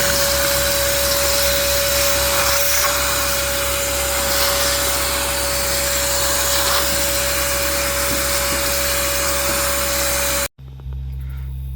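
A vacuum cleaner running inside the cab of a John Deere 7420 tractor, a loud, steady whine with a constant tone that cuts off abruptly near the end, leaving a quieter low hum.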